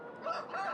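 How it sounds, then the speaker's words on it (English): A rooster crows in Farming Simulator 2013, one clear, moderately loud crow with a drawn-out, wavering call and no talk over it. "I'm going to shoot the rooster in the head"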